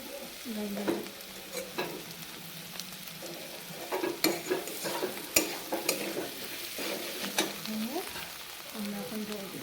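Potatoes frying in a pan with lentil fritter curry being made, stirred with repeated scraping strokes over a steady close sizzle; occasional utensil knocks, no talk.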